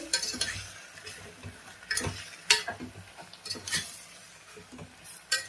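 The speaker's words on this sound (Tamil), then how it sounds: "போட்டு நல்லா கிளறிட்டு" Spoon or spatula stirring a raw mango dish in a pan, with repeated scraping and clinking strokes over a soft sizzle, close and moderately loud, no voices.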